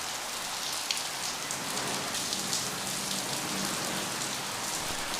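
Steady rain falls continuously at night at Incheon airport in Seoul, a dense even patter without pause, with no talk over it.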